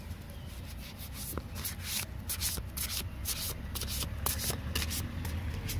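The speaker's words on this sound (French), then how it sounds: "c'est encore moins confortable que d'habitude pour mélanger les cartes." Tarot cards being shuffled by hand, a close, soft rubbing and riffling swish repeating in short bursts over several seconds with no talking.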